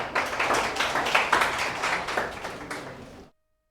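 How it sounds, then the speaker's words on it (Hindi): A group at a Teachers' Day celebration claps to welcome an invited guest, a brisk burst of applause from a small crowd that runs for about three seconds and cuts off abruptly into silence. "तालियां बजाओ भाई"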